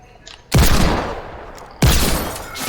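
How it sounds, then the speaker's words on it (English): Desert Eagle pistol fire in Fortnite, two loud, close, sharp gunshots about a second apart, each with a short decaying tail. "Headshot at a guy with a deagle"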